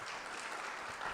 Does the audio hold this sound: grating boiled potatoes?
no